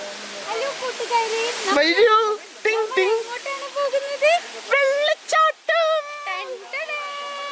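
Areekkal waterfall gives a steady broadband rush, clearest in the opening seconds, then sinks beneath children's and adults' voices chattering and calling out nearby.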